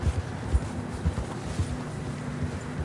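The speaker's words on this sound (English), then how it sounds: "Horses are getting tired." Steady clip-clop of horse hooves plodding through fresh snow in the video game Red Dead Redemption 2, a few heavier thuds standing out over a low rumbling background of wind and movement.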